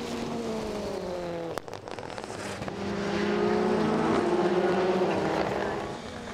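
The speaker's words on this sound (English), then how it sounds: "The DS3 in the hands of Nathan Heathcote, and through the hairpin they come" Rallycross cars, including a Citroën DS3, racing through a hairpin at Lydden Hill during a British Rallycross Championship round, engines revving and shifting near the track, then a louder, sustained roar as they accelerate past, with a commentator talking over it.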